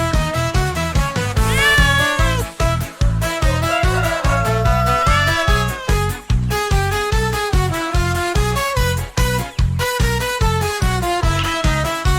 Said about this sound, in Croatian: Od mačka se prestraviše, od Gabora još i više